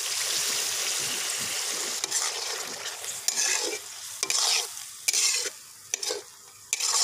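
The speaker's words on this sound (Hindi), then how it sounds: "हम आधा गिलास इसके अंदर पानी डालने लगे हैं।" Chicken karahi in a street-style Peshawari charsi preparation with tomatoes, sizzling and frying loudly as half a glass of water goes in and it is stirred, steady hiss broken by bursts of spatula scraping.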